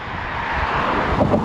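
Steady outdoor wind on a long-distance hike through Sweden, rushing broadly and continuously into the microphone and swelling in gusts near the end, with no one speaking.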